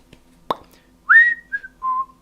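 A single tap, then a person whistles three short falling notes, clear and close in a quiet room.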